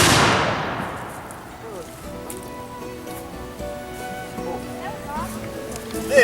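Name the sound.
matchlock musket being fired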